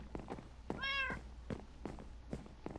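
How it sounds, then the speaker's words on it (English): A Minecraft cat gives one clear, rising meow near the start, set among soft game clicks and footstep thumps with no talking. "Let's have our kitty cat."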